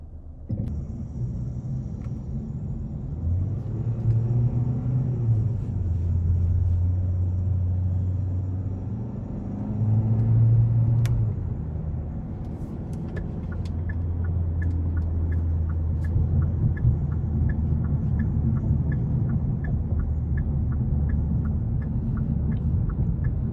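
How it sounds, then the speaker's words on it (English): Cabin sound of a 2022 Hyundai Sonata SEL Plus driven in sport mode with paddle shifters: engine revs climb and drop with each gear change over a steady road rumble, with faint clicks toward the end. "Really good throttle response in sport mode with the paddle shifters."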